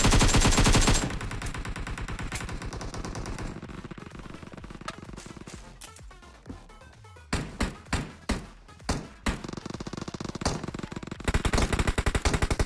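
Machine gun fire in the mobile shooter PUBG Mobile, sustained rapid bursts at the start and end with a run of distinct separate shots in between, loud game audio with no voices.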